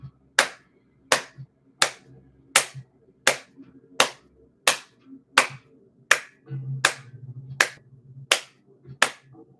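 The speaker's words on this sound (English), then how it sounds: "clapping your hands together as hard as you can" A single person claps their hands together as hard as they can, about fourteen sharp, loud claps in a steady, evenly spaced rhythm, close to the mic, with faint background murmur between them.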